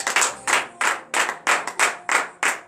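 Congregation at a morning prayer service in Benin claps in unison, with eight loud, close, evenly spaced claps in a steady rhythm.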